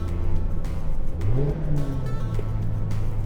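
Mazda MX-5 engine rising in a quick throttle blip during a clutchless gear shift, a close, steady in-car drone that swells briefly mid-way and then settles.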